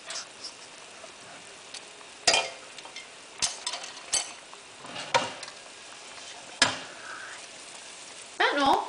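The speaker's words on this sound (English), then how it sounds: "the oil is starting to bubble, which means it's getting pretty hot" Oil heating over low heat in a pan bubbles and sizzles quietly and steadily, with occasional sharper crackles and a spoon or whisk clinking against the pan, and a voice speaking now and then.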